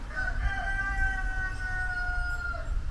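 A rooster crows once in a long, drawn-out call, moderately distant, against a quiet outdoor background in the Polish village of Biały Dunajec.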